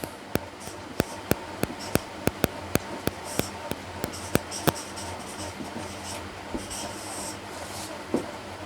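Pen or chalk writing out physics equations, with sharp regular taps and strokes about twice a second, then softer scratching, close and clear with no speech.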